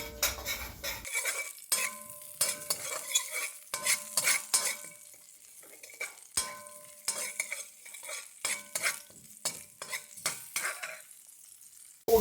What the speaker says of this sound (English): we're going to saute this just until the garlic becomes lightly golden